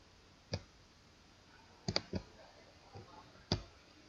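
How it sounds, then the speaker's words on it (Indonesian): Sparse keystrokes on a computer keyboard, a few isolated sharp clicks spaced irregularly, including a quick double tap, in an otherwise quiet room with no talking. "Oke, Ibu ketik dulu."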